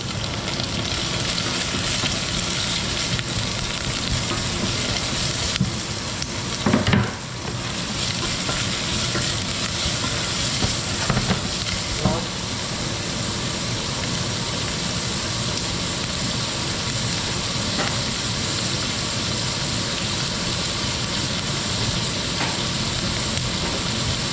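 Onions sauté in a pan with a steady, close, even sizzle that carries on for the whole stretch, with a few faint clinks and scrapes here and there and no talking.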